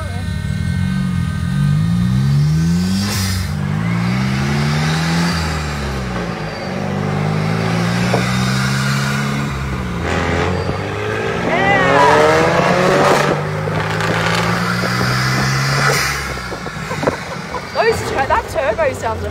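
A VUHL supercar's turbocharged engine revving while driving through Mexico City, rising and falling engine tones with sweeping pitch climbs, loud and close, with people talking over it.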